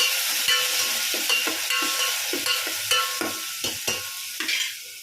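Steady oil sizzling with repeated scraping and stirring of onion and tomato sautéing in a pan, close and continuous, no voices.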